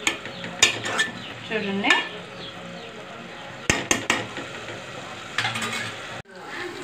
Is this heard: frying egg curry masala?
yes